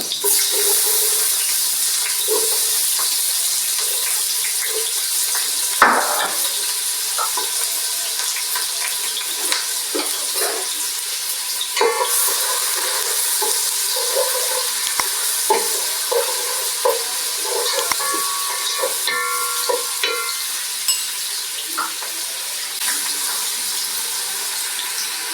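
Chopped onions (kitunguu) frying and being stirred in heated oil for Kenyan matoke with liver; a steady soft sizzle runs throughout with occasional scraping and clinking of the utensil against the pan.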